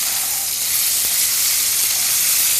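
Skirt steak sizzling in a very hot pan with olive oil, a steady, loud, close frying hiss with no pauses.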